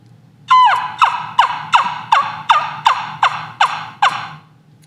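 A trumpet-style turkey call imitating a wild turkey's gobbling yelps: a close, loud series of about ten sharp, evenly spaced notes, each falling in pitch, with no talking.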